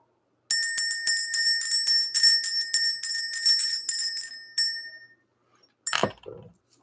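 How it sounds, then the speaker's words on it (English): Small metal bell rung in rapid bursts of repeated bright chimes for about four seconds, fading out, then one more strike followed by a faint clatter. "Let's ring the bell."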